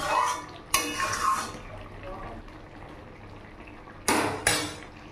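A metal spoon scrapes and knocks inside a kadai while jhinge aloo posto is stirred, with a few sharp clattering bursts at the start and end and quieter cooking sounds between.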